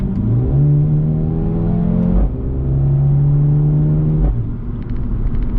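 A 2020 Mercedes-AMG A 35 engine revs hard twice from inside the cabin, pitch climbing steeply, dropping, then surging again, loud and throaty.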